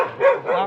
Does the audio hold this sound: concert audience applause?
no